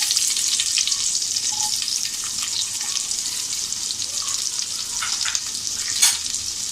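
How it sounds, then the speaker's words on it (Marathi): Finely chopped onion frying in oil in a heated pressure cooker for tempering alongside curry leaves and mustard seeds, a steady close hiss with light scraping stirs and a few sharper spits near the end. "बारीक चिरलेला कांदा फोडणीसाठी"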